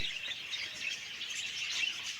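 Caged white Java sparrows on a small bird farm keep up a soft, constant chatter of high chirps and tweets, heard faintly from a short distance without any voices.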